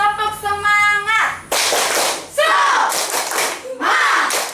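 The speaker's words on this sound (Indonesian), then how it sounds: "Yuk kita tepuk semangat." A class of schoolchildren in an Indonesian classroom performs the 'tepuk semangat' clapping chant: a sung, voiced opening followed by bursts of sharp, rhythmic group claps mixed with children's chanting voices.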